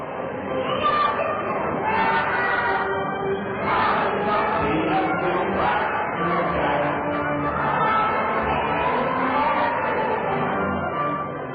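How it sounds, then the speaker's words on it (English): A big crowd at a minor-league ballpark sings together during the seventh inning, a broad, blended mass of voices that fills the stands steadily from start to finish. "Let's tune in for just a moment to hear this big crowd sing together."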